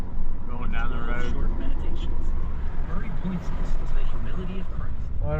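A hotshot pickup truck cruises down a highway toward Wichita, with a continuous engine and tire drone and some passing traffic beneath a voice talking throughout.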